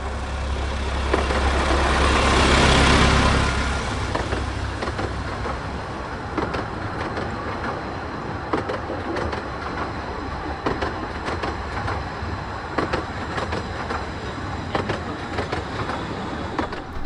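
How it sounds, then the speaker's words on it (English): A passing train on the Ravenglass and Eskdale Railway at Miteside Loop, a narrow-gauge line: a rushing swell as it draws close, then steady rolling wheel clatter with rhythmic clicks over rail joints, loud and near, with no talking. "we had to sit and wait at Miteside Loop for another passing train."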